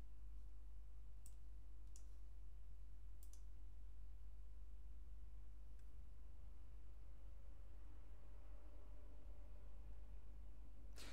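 A computer mouse clicks a few times, faint sparse ticks spread over several seconds on top of a steady low electrical hum, with no talking.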